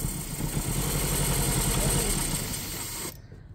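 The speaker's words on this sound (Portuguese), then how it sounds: "Se alguém precisar, ó, o motor tá perfeito." An abandoned Renault Duster 2.0 with 129,000 km runs at idle, a steady close engine drone that cuts off abruptly near the end.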